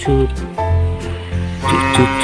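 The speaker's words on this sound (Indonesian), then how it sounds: "suara sapi minta tolong" A cow cries out for help in a run of loud, wavering, bleat-like calls that follow one another almost without pause, close and full.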